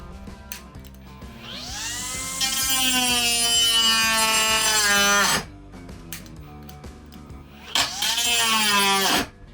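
ProCraft PGA12 cordless mini angle grinder on a weakening battery cutting 16 mm rebar, a loud whining motor that rises, grinds steadily for a few seconds, then cuts off, followed by a second short burst.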